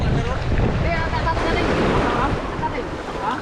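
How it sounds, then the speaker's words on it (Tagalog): Big ocean waves crash and roar under strong gusting wind buffeting the microphone, a dense, loud, continuous wash of surf noise near at hand. "Oh, lalaki talaga ng alon."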